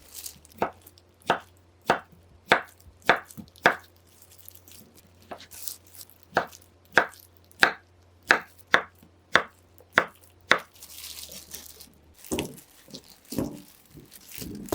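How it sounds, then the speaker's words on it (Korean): A knife cubes peeled steamed beets on a cutting board in about seventeen crisp, evenly spaced chops, close and distinct, followed by softer shuffling and scraping. "예쁘게 깍둑 썰기 하시고요"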